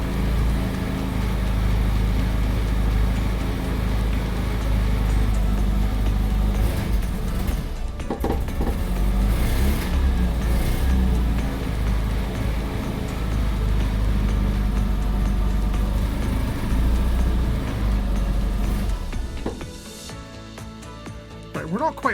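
An MG Midget engine idles at about 1600 RPM, a loud, steady low rumble with someone talking over it. The engine drops away near the end.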